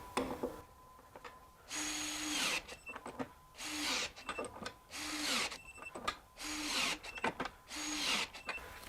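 Milwaukee Gen 3 M18 compact cordless impact wrench torques lug nuts to 250 foot-pounds in five separate bursts, each a loud rattling hammer with a brief winding pitch, separated by short quiet gaps.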